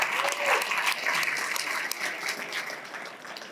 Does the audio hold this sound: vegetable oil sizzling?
no